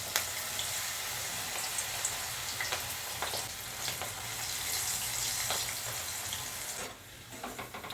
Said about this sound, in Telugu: ఇప్పుడు నెమ్మదిగా ఈ పచ్చిమిర్చి కరివేపాకు కూడా దీనిలో వేసుకుని ఫ్రై చేసుకోవాలి